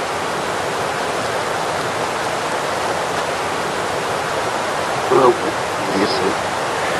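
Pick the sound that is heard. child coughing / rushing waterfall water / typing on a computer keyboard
rushing waterfall water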